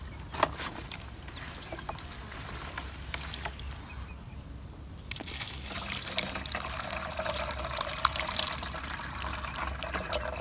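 Rabbit urine pesticide mixture for apple trees is poured through a sieve, a soft continuous trickle that builds into a fuller, splashy pour in the second half, heard close with no talk.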